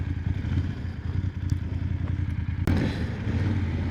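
A BMW F800GS motorcycle on a commute to work, its engine droning in a steady low rumble with wind buffeting and occasional clatter and thumps from the ride.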